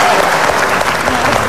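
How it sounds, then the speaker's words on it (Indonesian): Steady applause from a studio audience on an Indonesian TV talk show, dense clapping that fills the whole moment with no pauses. "Tepuk tangan dong."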